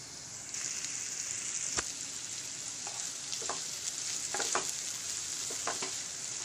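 Onions sizzle and fry in a hot pan for a cheesy toast sandwich, giving a steady bright hiss with a few sharp crackles and stirring clicks close by.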